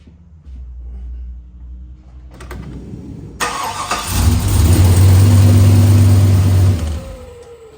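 A car engine with a ball-bearing 76/65 turbo cranks, catches and roars, revving hard with a loud rising whine before dropping back to a rough idle nearby.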